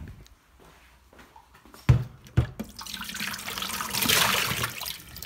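Water runs from a tap outdoors near a house, starting after a couple of sharp knocks and building to a steady, close rushing stream that swells toward the end.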